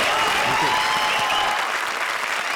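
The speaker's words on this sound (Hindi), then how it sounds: "जोरदार तालियां VIP और फ्रेंड्स के लिए।" Dense studio audience applause on a comedy show stage, steady and loud throughout with a crowd murmur mixed in, fading slightly toward the end.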